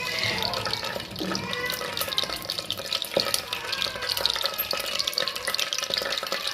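Tap water runs steadily into a bowl as lentils are rinsed for a bottle gourd dish, a continuous splashing hiss with small clinks and stirring, close by, with no talk over it.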